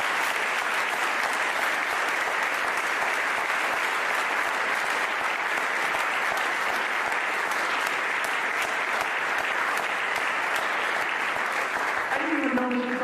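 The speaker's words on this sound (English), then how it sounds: "Let's give them a round of applause" Sustained, dense audience applause fills a high school band concert hall, loud and steady from start to finish with no break.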